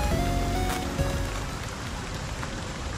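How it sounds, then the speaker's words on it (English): Rain in a video game falls as a dense, even hiss of drops on a surface, steady and fairly soft across the whole moment with no other sounds standing out. "Rain is not interesting."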